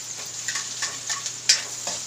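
White onions hit a hot wok with a steady close sizzle, broken by a few short stirring scrapes and spatters, no talk.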